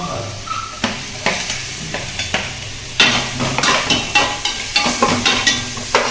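Onions frying in a pan for samosa filling, a soft steady sizzle broken by repeated scraping stirs of a spoon against the pan, the stirring growing brisker and louder partway through.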